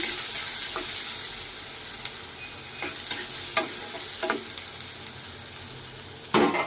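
Garlic, onion and green chillies fry in hot oil with a steady, loud broadband sizzle, broken by a few sharp scrapes of a spatula stirring the pan, the last one near the end.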